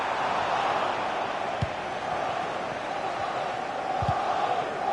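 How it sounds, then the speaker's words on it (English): A stadium crowd in a FIFA Manchester United football video game keeps up a steady, loud roar of noise with no distinct peaks, and a few faint thuds show through. "the crowd are sensing this is a great opportunity. They're really getting behind them."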